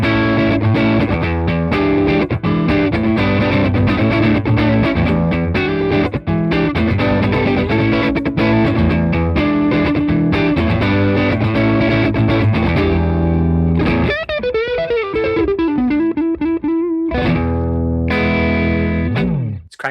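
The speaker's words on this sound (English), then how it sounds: "We're going to dial in some low gain Strat style tones." An early-1980s Tokai Strat played through a Chevtone Messiah Drive pedal set to low gain, giving loud, mildly overdriven chords and riffs that continuously fill the passage, ending with bent single notes.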